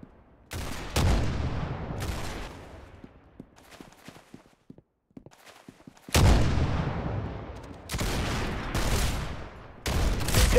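Gunfire in the Roblox game Arsenal comes in dense, loud bursts of rapid shots, drops to sparse, quieter pops midway, then returns in heavy volleys.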